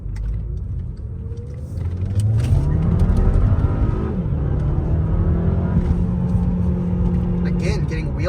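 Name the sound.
Volkswagen car accelerating with wheel spin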